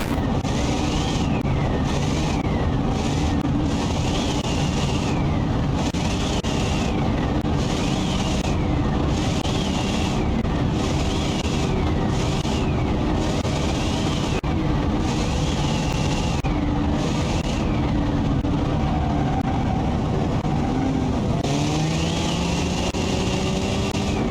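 Supercharged 3.6-liter V8 in BeamNG.drive revs continuously with a high supercharger whine over a steady engine drone, rising and falling in repeated sweeps as gears shift, with no voices.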